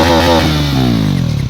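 Two 400cc motorcycles, an NS 400 and a Dominar 400, rev hard together on an open road, loud and close, the engine note rising steadily in pitch with a rough, buzzing edge and no talking.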